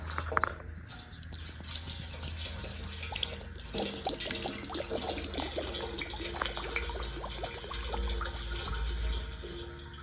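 Liquid from a 20 ounce tank pours into an antique tractor in a steady trickling, splashing stream with scattered drips, close by and fairly quiet, with no voices.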